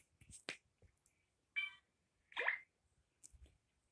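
Blip wobble notification tone on a Meta Quest 3 headset: a few short, quiet electronic blips with a wobbling pitch, spaced apart over a few seconds and heard alone with no talk.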